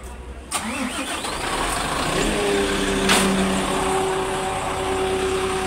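A large Howo truck diesel engine cranks and turns over, then settles into a steady rumbling idle nearby, with a brief clank partway through.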